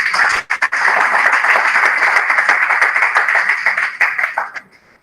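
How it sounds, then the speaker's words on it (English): A big round of applause from attendees at an entrepreneurship and innovation webinar, loud, dense clapping sustained for about four seconds before tapering off to quiet. "please give him a big round of applause"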